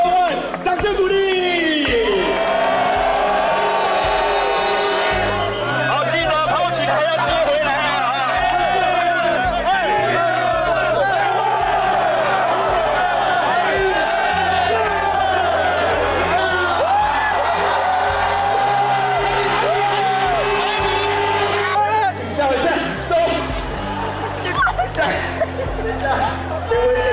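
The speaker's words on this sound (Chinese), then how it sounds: "掌声鼓励" A large baseball crowd at Tainan stadium celebrates the CTBC Brothers winning the first-half title, with loud, continuous cheering, whoops and chanting voices throughout.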